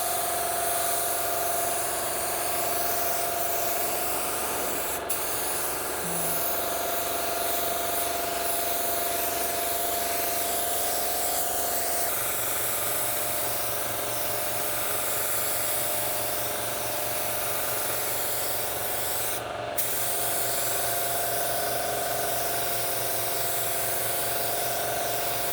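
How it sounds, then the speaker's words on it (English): A Sagola 4600 spray gun with a 1.2 tip lays paint onto a car bumper in a home garage, giving a steady, close, continuous hiss of spraying air that runs unbroken throughout, with no voices. "We had to put 3 or 4 coats on this bumper to get proper coverage."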